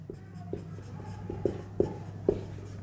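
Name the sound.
writing on a board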